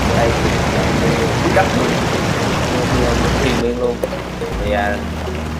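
Heavy rain falling in the game Truck Simulator Ultimate: a dense, steady wash of rain noise that thins abruptly partway through, leaving a low engine-like hum under a speaking voice.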